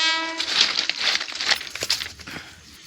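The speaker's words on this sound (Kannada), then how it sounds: "ನೋಡ್ರಿ ಟ್ರೈನ್ ಬಂತು" A train rumbling past nearby in the Kumta countryside of Uttara Kannada, opening with a brief horn blast, followed by clattering and rushing noise that fades toward the end.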